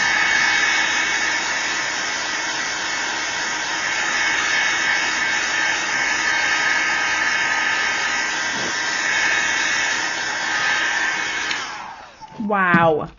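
A hair dryer blows steadily and loudly over alcohol ink artwork made with heart stencils, a constant close whoosh that cuts off near the end with a brief clatter.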